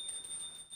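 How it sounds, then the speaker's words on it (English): A small hand bell rings continuously during a Hindu arti offering, its thin, high metallic tone sustained and faint without any voices. "please ring the bell as you do so"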